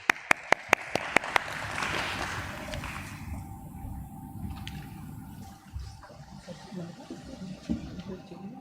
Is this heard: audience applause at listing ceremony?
yes